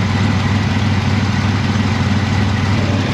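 A revving car engine at the Kissimmee Drag Strip rumbles steadily and loudly throughout, low and continuous, with no voices.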